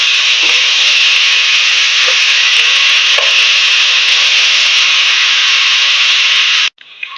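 Boiled eggs frying in masala over a low flame produce a steady, loud sizzling hiss with faint scrapes throughout, cutting off abruptly near the end.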